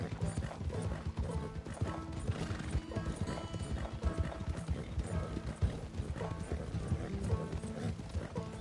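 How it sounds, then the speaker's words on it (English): Hoofbeats of a horse galloping in the Red Dead Redemption video game, a steady rapid clip-clop running throughout with occasional whinnies over a busy game soundtrack. "Gosh, I hate this tapping mechanic to make my horse sprint."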